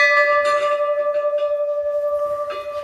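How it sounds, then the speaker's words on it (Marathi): A temple bell at the Kalbhairav temple in Pargaon rings with a sustained, shimmering metallic tone, struck repeatedly so the ringing pulses steadily and fades slightly toward the end. "ही आहे घंटी तर आल्याबरोबर घंटीचं वाजवणूक लागली"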